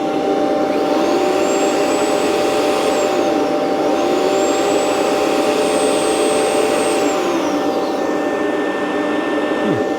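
A Rainbow PN12 power nozzle on a vacuum running loudly on carpet, giving a steady close motor roar with a whining tone that rises, falls and shifts in pitch as the brush drags and slows.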